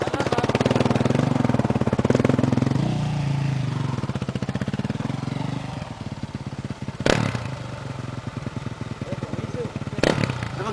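A motorcycle engine on a rally ride through southern Madagascar runs loud and close, rattling and throbbing, then settling into a rapid clattering idle, while people talk nearby.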